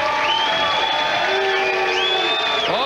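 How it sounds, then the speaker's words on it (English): Crowd at a professional bowling tournament, the 2000 PBA Don Carter Classic title match, cheering and whooping steadily with raised shouts throughout, swelling near the end. "Crowd getting into it now."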